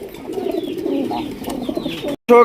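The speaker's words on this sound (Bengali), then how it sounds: "এটা হচ্ছে ব্ল্যাক কালারের মোড়া সেল কবুতর" Black Mora cell pigeons, a big-sized pair, coo close by in soft repeated low calls with a few faint chirps, ending after a sudden brief gap with a short loud burst.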